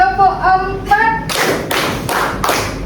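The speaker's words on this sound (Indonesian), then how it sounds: "Tepuk 1, tepuk 2, tepuk 3, tepuk 4." Voices chant a count, and then a group of people claps in a counted rhythm pattern. Four loud bursts of hand claps come in a steady beat, each a tight ensemble clap.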